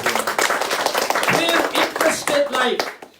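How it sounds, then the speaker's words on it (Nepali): A church congregation claps their hands in praise of God, with dense, rapid, overlapping claps running the whole way through alongside voices. "ताली बजाउन हामी परमेश्वरलाई।"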